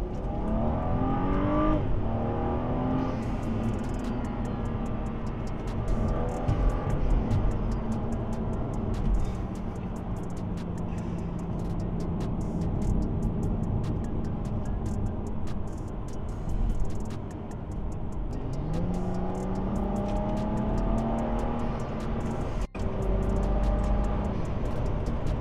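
A BMW 435i on KW V1 coilovers is driven hard in sport mode, its engine repeatedly revving up through the gears and easing off, heard from inside the cabin with steady road noise and occasional ticks.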